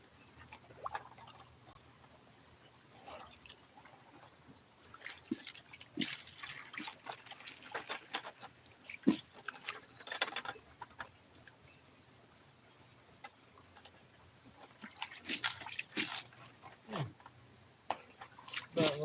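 Gravel being panned for gold in water using a large pan, with repeated sloshing, splashing and trickling bursts in irregular waves, close up and moderately loud, with faint outdoor background throughout.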